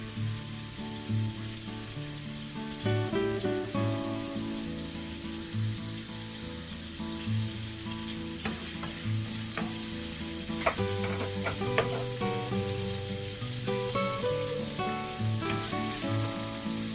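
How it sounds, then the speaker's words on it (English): Crumbled chorizo sausage fries in hot oil in a pan, giving a continuous close sizzle with scattered popping crackles over faint background music. "just crumbling the sausage on the oil. Make sure the pan is nice and hot."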